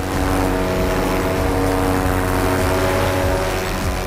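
A homemade paramotor flies over village fields in Haryana, its engine and propeller giving a loud, steady, droning buzz that holds without a break throughout.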